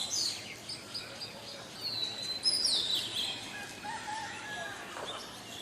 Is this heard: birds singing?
yes